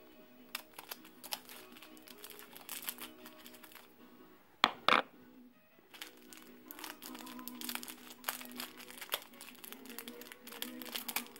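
A Panini Jurassic World sticker packet being cut open neatly, with close crinkling and rustling of foil wrapper and a sharp snip partway through, all fairly quiet.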